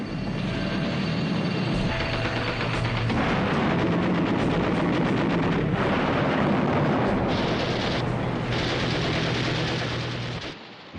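Wartime bomb blasts and artillery fire aboard a carrier, a dense, loud, continuous barrage of rumbling explosions and crackling gunfire lasting throughout, with no clear gaps between detonations.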